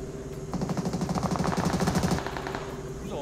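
Rapid automatic gunfire in PUBG Mobile, a steady burst of fast rhythmic shots lasting about two seconds, loud and fairly close, with no talk over it.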